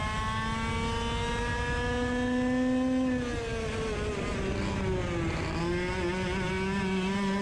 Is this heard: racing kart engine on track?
yes